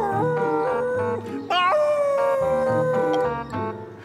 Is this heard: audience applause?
no